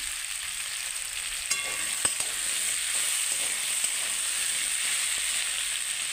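Pumpkin pieces fry in a pan for a Bengali pumpkin chechki, giving a steady, close hiss of sizzling oil with a few faint clicks from stirring.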